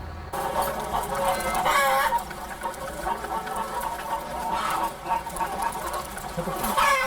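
Many hens cluck and squawk together in a crowded egg-laying farm, making a dense, continuous din with occasional louder calls.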